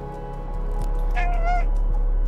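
An in-game cat gives a drawn-out meow over continuous music in a cat video game set in a robot-overrun city.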